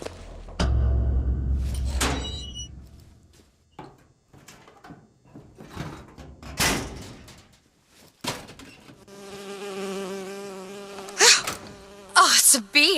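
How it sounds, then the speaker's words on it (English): A bee buzzing in Bioshock Infinite, droning in short bursts among thumps and other game noises, with a longer tonal buzz toward the end. "Oh, it's a bee."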